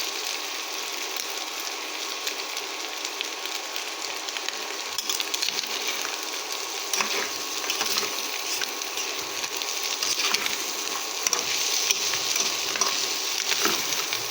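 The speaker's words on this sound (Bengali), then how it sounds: "এটা ভালো করে এবারে নেড়ে চেড়ে আমি লাল করে নেবো" Pieces of chicken frying in hot oil in a pan, a constant dense sizzle with scraping and turning as they are stirred, close and steady with no talk.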